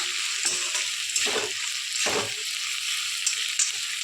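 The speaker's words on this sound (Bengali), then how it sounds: "এগুলো দিয়ে একটু ভালো করে মিক্স করতে হবে।" Rajma frying in a pan with spices and ginger water, a steady close sizzle with a couple of louder scraping stirs of a spoon through the beans, no voices.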